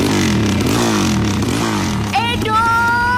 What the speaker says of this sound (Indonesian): Makanya nggak usah aneh-aneh, pakai knalpot brong segala lagi.